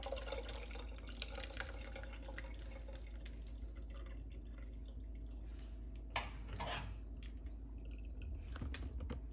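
Tamarind water trickles and splashes steadily through a strainer, with faint drips and wet squishing over a constant low hum.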